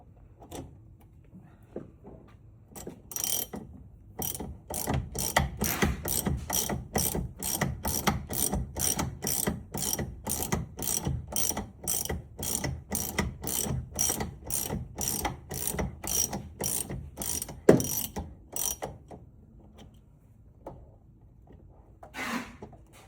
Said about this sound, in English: with a socket wrench you'll be able to remove the top caps